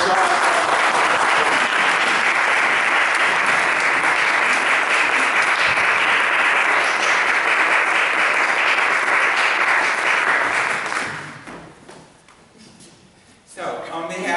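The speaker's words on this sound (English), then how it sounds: "Give them another round of applause." Dense applause from an audience at a student recital at Pitch Perfect Studio fills the space loudly and steadily for about eleven seconds, then fades quickly into quieter room noise.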